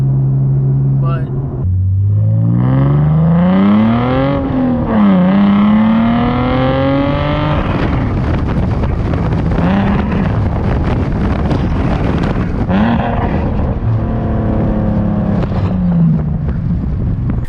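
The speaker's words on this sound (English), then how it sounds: "Going 70 miles per hour, and there's a slight drone in the car." Car fitted with a Fast Intentions exhaust cruising at around 70 mph, loud rising and falling engine tones sweeping up through the revs, then settling into a steady droning roar with wind noise, all alone without talk.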